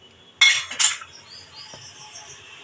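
Zero-oil mutton curry poured from a pan into a bowl, heard as two sharp, close metallic clanks of pan against bowl followed by a faint fading ring in a quiet kitchen.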